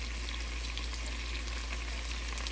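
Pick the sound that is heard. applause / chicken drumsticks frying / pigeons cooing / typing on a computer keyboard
chicken drumsticks frying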